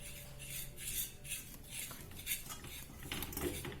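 A utensil scrapes and clinks against a pot while a soap mixture made with coffee and kuppamane herbs is stirred on the stove, giving a rhythmic series of metallic scrapes up close.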